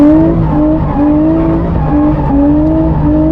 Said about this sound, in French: je veux faire partir la voiture, donc je braque, j'accélère, elle part, je contre-braque, et là je reprends les gaz